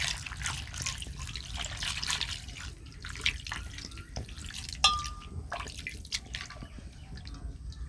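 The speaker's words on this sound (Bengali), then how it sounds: "জল দিয়ে দিচ্ছি পরিমাণ মতো।" Water being poured into a Bengali ritha fish curry mixture: a soft, uneven trickle and splashing with scattered drips, fairly quiet and close, no talking.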